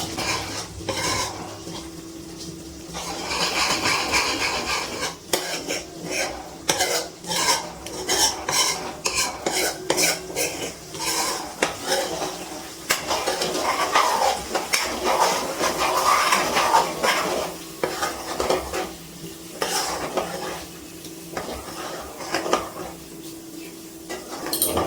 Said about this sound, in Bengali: জাল দিতে দিতে কিন্তু নিচে নাড়াচাড়া করতে হবে, নাহলে কিন্তু নিচে ধরে যেতে পারে